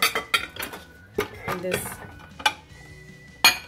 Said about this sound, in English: So I'm going to load this in the tabletop dishwasher.